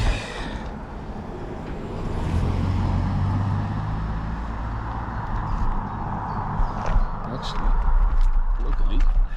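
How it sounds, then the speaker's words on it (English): Steady road traffic rumbling past on a road near Goudhurst, England, continuous and fairly close, with a runner's voice talking over it. "What with this traffic?"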